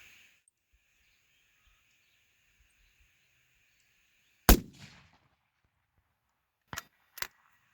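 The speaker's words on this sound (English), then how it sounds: "we're going to get a baseline by shooting a group at 511 meters" A .308 rifle fires at a 511-meter target in open country: one loud, sharp report with a short rolling decay, followed a couple of seconds later by two quicker, fainter cracks close together, with near-silence between them.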